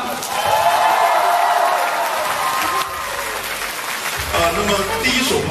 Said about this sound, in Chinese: 给他们一点掌声好吗？